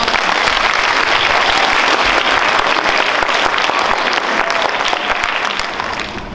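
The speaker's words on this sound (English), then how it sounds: "I'd like you to give him a round of applause to thank him." An audience applauds a congressman at Maple Point Middle School in Bucks County, with dense, loud, sustained clapping that fades slightly at the end.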